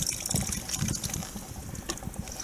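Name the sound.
water being poured out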